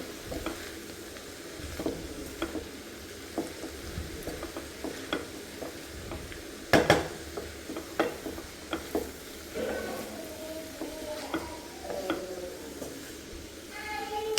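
Beetroot palya being stirred in a pan with fresh coriander, a steady soft sizzle under repeated scraping and stirring strokes, with one sharper clatter partway through and no talking.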